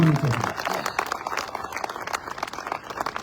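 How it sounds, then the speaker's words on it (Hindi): Audience applause at a political rally speech, a dense burst of many people clapping loudly that fills the short span, with a voice briefly heard at the start. "एक जोरदार तालियां होनी चाहिए।"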